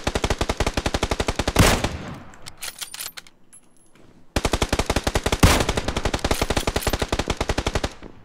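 Rapid automatic gunfire rattles in long, loud bursts in a multiplayer shooter video game, breaking off into a quieter lull with scattered sounds before another sustained burst resumes.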